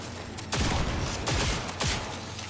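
Enemy gunfire in Cyberpunk 2077: three loud bursts of rapid shots, each lasting a fraction of a second to half a second, fired close by with short pauses between them.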